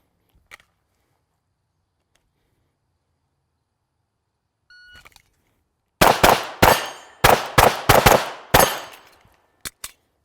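Pistol shots fired at paper targets during a match-style drill ring out in a rapid string of about eight loud, sharp cracks with brief pauses, following a quiet stretch with a faint beep.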